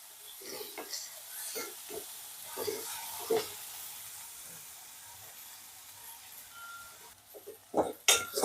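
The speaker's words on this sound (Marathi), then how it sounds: "कांदा परतून घेतलेला आहे मी।" Chopped onion sautés in a pan, giving a faint, steady sizzle broken by scraping stirs and a few metallic clinks near the end.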